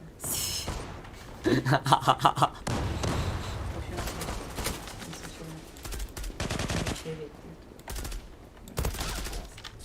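Bursts of automatic gunfire from the online shooter Zula, rapid sharp cracks in clusters over a livestream, with someone talking loudly throughout and game effects in the background.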